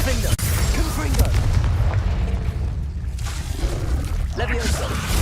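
Explosion from the Confringo spell in the video game Hogwarts Legacy, a heavy booming blast followed by rumbling fire-like noise, with further bursts and game sound effects around it.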